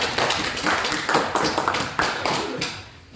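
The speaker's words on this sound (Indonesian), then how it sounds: "Tepuk tangan lagi buat kelompok 3." A classroom of students claps for a student group after its presentation, producing several uneven bursts of hand claps at close range that fade toward the end.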